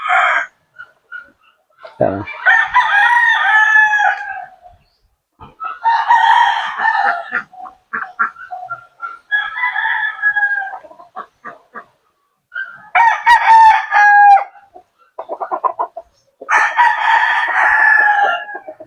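Roosters crow repeatedly in a backyard where gamecocks are bred, several loud drawn-out calls separated by short pauses, with clucks and occasional talk between crows.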